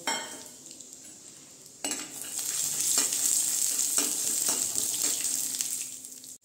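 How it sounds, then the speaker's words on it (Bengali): Raw peanuts drop into hot mustard oil in a wok and a bright, loud sizzle erupts, holding with stirring scrapes and pops before fading at the end. "এটার মধ্যে আমি এই যে কাঁচা বাদামগুলো দিয়ে ভেজে নেব"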